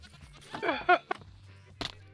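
A Minecraft goat or sheep gives a short, quavering bleat, followed by a couple of faint clicks and a brief soft blip over a quiet low hum.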